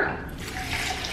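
Water pours steadily into a pot for pumpkin chili, a continuous close splashing wash of liquid filling the vessel, with no talking over it.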